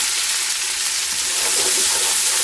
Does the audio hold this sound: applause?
no